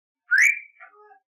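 A pet parrot named Lou gives one short, clear whistle that rises, then slides down into a softer wavering tail, all alone in silence.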